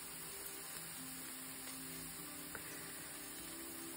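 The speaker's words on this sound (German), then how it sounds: "in der Zeit, wo die Zwiebel mit dem Knoblauch dünstet" Onion and garlic soften in a pan with a faint, steady sizzle and a soft, even hiss throughout, with no voices over it.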